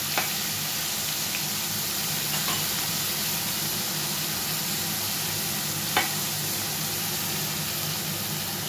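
Spice paste for khichuri fries in a pan with a continuous loud sizzle and hiss, with occasional soft scrapes of stirring.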